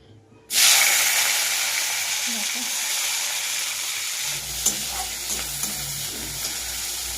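Oil hits a hot pan for a Bengali bhola fish curry, bursting into a loud, steady sizzle that starts abruptly after a brief quiet moment and continues evenly, with faint utensil taps near the end.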